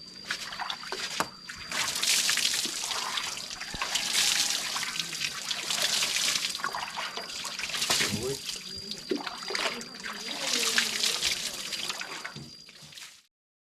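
Water trickles and splashes during a shower in a village home, a steady hiss and patter that swells and dips in several waves before stopping abruptly, close and fairly loud.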